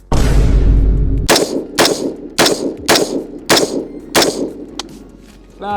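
Six rifle shots fired one after another at a target with 77 grain ammunition, each a sharp loud crack with a ringing tail, spaced roughly half a second to a second apart after a brief rumbling lead-in.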